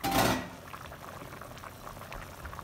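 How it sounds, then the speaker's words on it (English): A pot of vegetables for butternut squash soup at a rolling boil: a brief loud whoosh as the lid comes off, then a steady close bubbling simmer with small pops. "as you can see, it's coming to a rambling boil."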